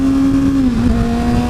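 A 2013 Kawasaki Ninja ZX-6R 636 engine runs loud and close on throttle as a steady tonal drone that dips slightly in pitch midway, with wind rush underneath.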